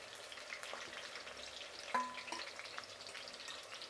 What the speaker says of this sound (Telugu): వంకాయలు బాగా వేగినాయండి